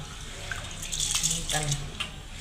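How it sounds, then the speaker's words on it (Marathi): Rice is washed in water for chicken dum biryani, with splashing and sloshing close by in a few uneven bursts, and a voice speaks faintly under it. "तांदूळ धुवून घेऊया"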